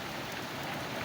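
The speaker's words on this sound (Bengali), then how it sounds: "আকাশেতে প্রচুর বৃষ্টি" Heavy rain falling outdoors during a sudden shower, a constant soft hiss of drops that stays even and fairly faint throughout, with no voices.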